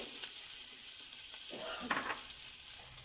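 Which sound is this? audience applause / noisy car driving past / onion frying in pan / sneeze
onion frying in pan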